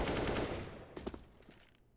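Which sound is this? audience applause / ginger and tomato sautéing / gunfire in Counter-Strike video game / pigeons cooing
gunfire in Counter-Strike video game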